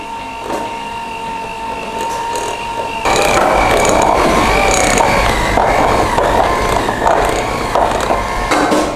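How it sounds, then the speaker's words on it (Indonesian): An electric mixer whirs steadily through cookie dough. It runs with a mechanical rattle from the start and grows louder and busier partway through, with no talking. "Sekarang kita mixer lagi."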